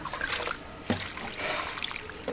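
Water pouring into a bucket, a faint continuous trickling and splashing with a soft knock partway through, heard close in a quiet setting.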